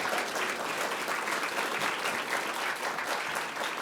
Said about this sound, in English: That was just a random round of applause